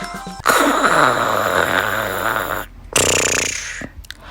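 A voice imitates a bear snoring while reading a storybook aloud, giving long, rumbling snore sounds close to the microphone, followed after a short pause by another snorting snore.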